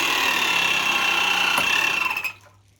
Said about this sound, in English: So I've hooked it up already to the electro-hydraulic pump.